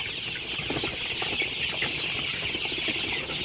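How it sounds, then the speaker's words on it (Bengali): A flock of Sonali super hybrid chickens, 36 days old, clucks and murmurs softly throughout inside a curtained shed, a steady busy chatter at moderate distance with no talking. "আমার মুরগিগুলা কিন্তু মাশাআল্লাহ খুবই ভালো আছে"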